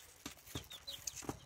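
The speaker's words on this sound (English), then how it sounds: "this is a variety of chicken that came from Iceland" An Icelandic chicken clucking softly up close, a few short, quiet clucks in an irregular rhythm against a hushed background.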